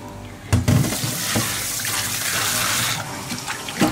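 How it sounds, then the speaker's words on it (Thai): Pork liver is rinsed under running water in a kitchen sink, a steady close rush of tap water with splashy bursts as the liver is handled, alone without talk. "ให้เราล้างน้ำเปล่าต่อไปเรื่อยๆนะคะสัก 3-4 น้ำจนกว่าจะสะอาดนะคะ"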